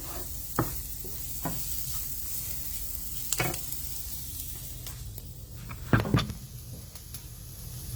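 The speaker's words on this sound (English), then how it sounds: "and stir fry it. The onions will change color." Onions stir-frying with salt in a lightly oiled pan for Indian okra, a constant soft sizzle broken by sharp scrapes and clinks of the spatula against the pan, close and alone.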